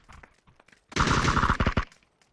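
Gunfire in the PUBG video game: a quick burst of automatic shots lasting about a second, fairly loud against otherwise quiet surroundings, with a few faint taps around it.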